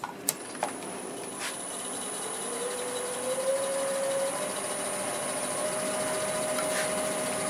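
A wood lathe turns a piece of wood, its motor whine rising steadily in pitch as it spins up, over a constant mechanical hum, after a few faint knocks at the start.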